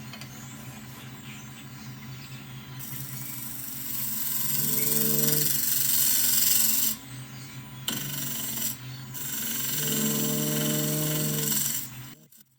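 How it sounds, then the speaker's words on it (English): A wood lathe spins a ring bowl as the tool makes gentle cuts, a steady rasping, scraping drone with a humming tone that swells louder midway, breaks off briefly, then returns before stopping. "Turn the speed up just a touch. And let's make a cut or two."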